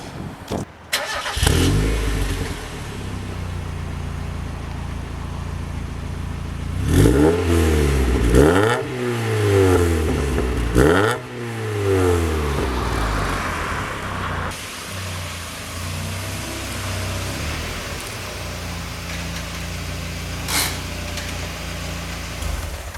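A Mazda Miata engine fitted with a Focus ST muffler cranks and catches, then revs up several times in rising and falling sweeps before settling into a steady rumbling idle, close and loud.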